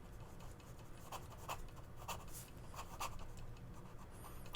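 Platinum Preppy fountain pen with a swapped-in broader nib scratching across paper while writing, a rhythmic series of faint, dry strokes close by over low background hum.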